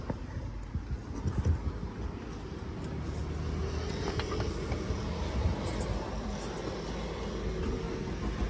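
A Renault Samsung QM5 with a newly replaced pair of sensors starts up after earlier failing to start, its engine settling into a steady low idle rumble that holds evenly throughout.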